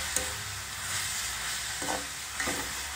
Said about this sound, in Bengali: এখানে এগুলো একটু নেড়ে চেড়ে তো এখানে মোটামুটি পাক এসে গেছে